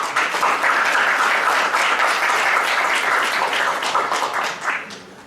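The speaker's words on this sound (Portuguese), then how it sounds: "Uma salva de palmas." Seminar audience at a sports law event giving a dense, sustained round of applause, steady and fairly loud for about five seconds before easing off.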